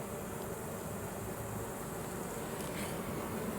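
A constant insect buzz of many bees droning together at a beehive entrance, steady and fairly quiet, with no voices.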